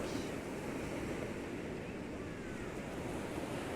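Ocean waves breaking on the shore, a continuous loud roar of surf and wash with some wind, close and steady throughout with no voices.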